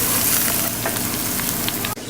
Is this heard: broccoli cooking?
yes